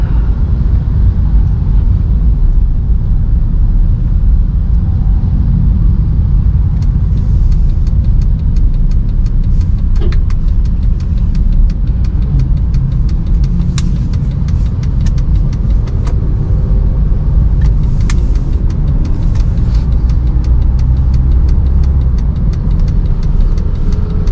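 A 2010 Honda Jazz RS with automatic transmission drives along, its engine and road noise forming a steady, loud cabin drone with faint ticks and clicks scattered through it.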